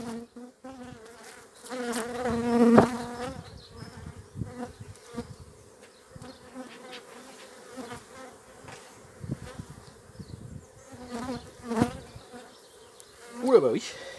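Honeybees swarm-buzz inside a freshly opened beehive at the first spring inspection in late March, with drones already present; a dense, steady drone fills the whole stretch, swelling louder at moments, with a voice faintly audible now and then.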